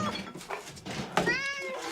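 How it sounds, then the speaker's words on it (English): A cat meowing close by, a couple of short plaintive meows with the second one clearer and rising, alone without talk. "Fucking cat."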